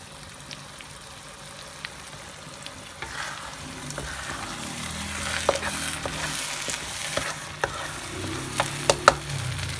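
Spice paste for lepat buras sizzles steadily in plenty of hot oil as it browns, with scattered scraping and clinking stirs growing busier toward the end.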